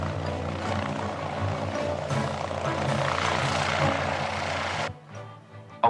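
An XV-15 tiltrotor aircraft flies past with a dense, steady rotor and engine roar that swells slightly, then drops off sharply near the end, leaving a quieter background.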